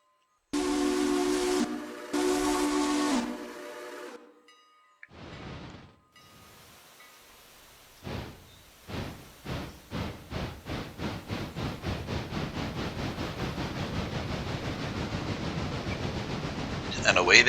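Passenger steam trains in the Railroader game give two long, loud whistle blasts and a brief hiss, then chuff away in steady puffs that quicken and run together as they pull out.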